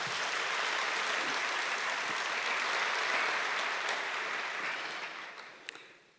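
An audience at a university welcome ceremony applauds a university choir. The clapping is dense and sustained at even strength, then thins out and fades over the last second or so.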